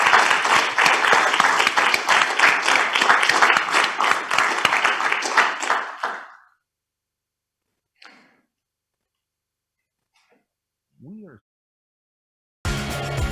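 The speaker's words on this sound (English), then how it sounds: "You can applaud." Loud, dense audience applause at an award ceremony for an electric-vehicle battery-swapping company, lasting about six seconds before fading to near silence broken by a few faint clicks and noises.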